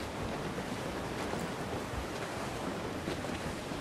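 Sea wind in Assassin's Creed IV blows as a soft, constant hiss and rumble over open water, quiet and unbroken with no other sounds on top.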